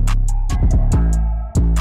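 A gritty 808 bass pattern in an FL Studio trap beat booms low and distorted under crisp hi-hat ticks and a brief roll, dense and loud throughout.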